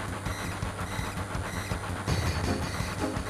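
Steady rumbling clatter of a moving train in Final Fantasy 7, continuous and fairly quiet, with rhythmic mechanical clicking and no talk.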